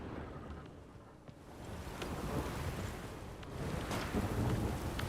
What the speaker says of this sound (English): Right, nothing out here except wind and rain.